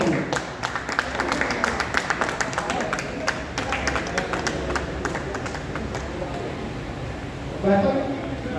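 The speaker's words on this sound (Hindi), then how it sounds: "आप एक बार में जोरदार ताली बजाएंगे।" An audience at a meeting of NGOs and residents' welfare associations breaks into loud, sustained clapping, dense crisp claps spread across the room, with a voice speaking over it near the end.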